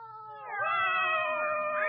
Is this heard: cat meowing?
yes